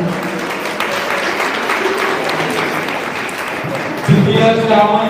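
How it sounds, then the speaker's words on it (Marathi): An audience at a Women's Day felicitation ceremony run by the Vairag Nagar Panchayat claps steadily to welcome an award winner, broad sustained applause that swells louder near the end. "सर्वांनी टाळ्या वाजवून स्वागत करावं."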